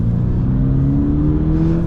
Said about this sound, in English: the engine sounds much better up in the rev range